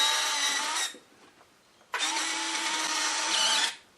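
A retractable landing gear on an RC plane makes two loud, close servo-motor whirs, each just under a second to nearly two seconds long, separated by a short pause, with no talking.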